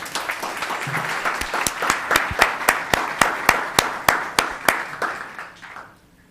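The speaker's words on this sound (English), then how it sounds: "Another round of applause for Lindsay." At a Los Gatos town council meeting, a small audience claps steadily, with crisp, evenly spaced claps from a nearby person carrying over softer applause for about five seconds before stopping.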